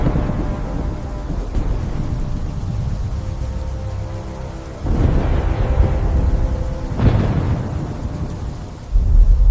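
Thunderstorm with steady rain hissing throughout and heavy thunder rumbling underneath, including several loud, close cracks and rolls that swell in the second half.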